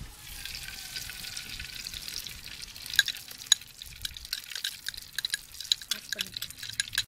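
Ghee in a hot clay pot gives off a faint, continuous sizzle with scattered sharp pops and crackles that come more often toward the end.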